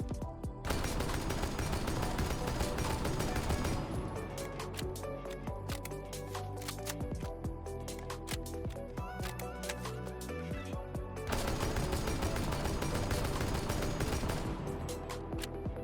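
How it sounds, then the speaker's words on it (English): Semi-automatic weapon fire in a video game, shot in rapid strings at a wall to test recoil patterns; dense bursts of sharp reports fill the clip with little pause, loud and alone. "I will shoot 3 patterns at the wall"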